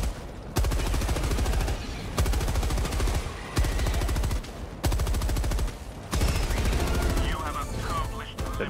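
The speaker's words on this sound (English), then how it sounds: "the machine gun is really, really strong" Sustained automatic fire from a machine gun in Helldivers 2, boosted from 760 to 900 RPM, rattling in long loud bursts separated by brief pauses, with explosive impacts toward the end.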